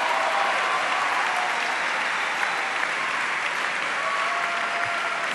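Audience applauding at the 2015 opening of Argentina's ordinary congressional sessions, a dense sustained round of clapping that stays loud and steady throughout.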